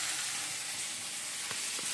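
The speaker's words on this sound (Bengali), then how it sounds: "এদিকে মশলাটা কষে নিচ্ছি, এর মধ্যে দিচ্ছি কালো জিরে পুরো, পেঁয়াজ, আদা আর জিরে গুঁড়ো, টমেটো" A spice masala of onion, ginger, whole black cumin, cumin powder and tomato frying in a pan, giving a constant close sizzle with a couple of faint knocks of stirring near the end.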